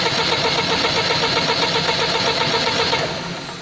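Perkins C4.4 diesel engine starting, a loud, dense mechanical rumble with a rapid cranking rhythm that holds steady for about three seconds, then fades slightly at the end.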